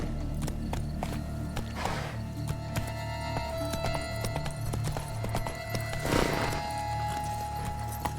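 A horse's hooves clip-clop at a steady walking rhythm under a rider in Witcher 3: Blood and Wine, set in Toussaint, with a dense game soundscape and a louder rustling burst near the end.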